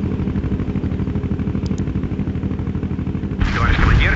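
Incoming mortar and artillery fire in the World in Conflict video game forms a dense, pulsing battle rumble that swells louder with heavier blasts near the end.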